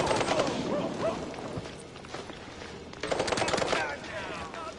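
Rapid bursts of gunfire from the Mouse P.I. for Hire video game rattle loudly in two main volleys, with a short lull between them and a voice talking over the shooting.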